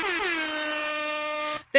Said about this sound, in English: Sorry about the inconsistent volume on that air horn there.